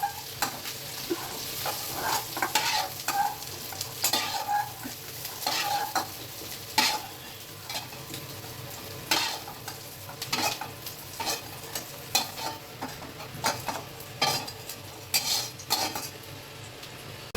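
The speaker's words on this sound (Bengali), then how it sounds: "এবার আমার ফুলকপিটা পুরোপুরিভাবে ভাজা হয়ে গেছে।" Cauliflower fries in a pan, a soft continuous sizzle broken by frequent scraping and clinking strokes of a spatula stirring, irregular and close, with no talk.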